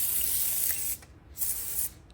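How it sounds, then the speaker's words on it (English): Gunk original engine degreaser sprays from an aerosol can onto a 1992 Corvette engine block in two long hissing bursts with a short pause between, close and loud. "I'm going to use Gunk engine degreaser, original"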